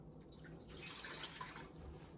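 Water trickles and splashes softly into a pot holding packed brown sugar, a faint steady pour with no talking.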